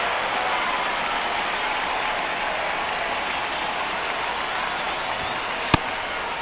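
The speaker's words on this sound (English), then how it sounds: "This rain is not letting up." Steady rain pours down during a Major League Baseball game, a continuous broadband hiss filling the whole stretch with one sharp crack near the end.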